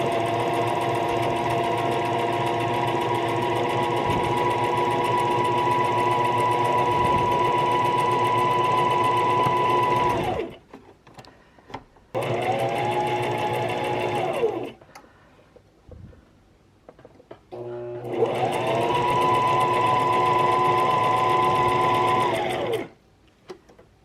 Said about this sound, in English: I'm going to go back again just because I prefer to over sew than under sew